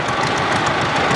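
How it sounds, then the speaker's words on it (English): 1930 model Caterpillar tractor engine running loud and steady in an outdoor antique steam-up parade, a dense close rumble with no pauses. "Jack Burstake shows up again with a 30 model Caterpillar tractor."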